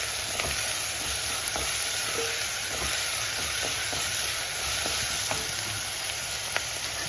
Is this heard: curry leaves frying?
yes